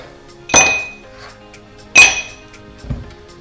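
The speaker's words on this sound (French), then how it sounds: "Je vais commencer par mettre 2-3 glaçons dans un grand verre." Two or three ice cubes drop into a tall glass, each landing with a bright, sharp clink and a short ring, spaced about a second and a half apart in a quiet kitchen.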